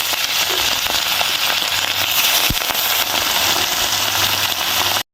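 Fish frying in hot oil in a kadai-style wok: a loud, dense, continuous crackling sizzle that holds steady from start to finish, with no talking.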